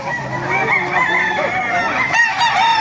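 A Raptor Sweater gamefowl rooster crows loudly and close at a busy open-air market in Baliuag, its long call standing out over steady crowd noise.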